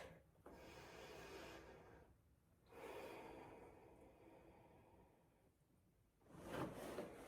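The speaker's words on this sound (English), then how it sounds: "I'm going to start with just observing and taking a deep breath in and out." Slow, deep breaths in and out during a calming grounding breathwork session, each long airy inhale and exhale close and soft, separated by short pauses, with a fuller, louder breath at the end.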